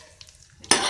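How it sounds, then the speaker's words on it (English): Sliced cashew nuts drop into hot ghee with a sudden loud sizzle in the final moments, following a near-silent stretch with faint clinks. "Now heat 2 teaspoons of clarified butter, that is ghee, and add the sliced cashew nuts"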